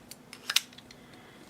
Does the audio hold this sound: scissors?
yes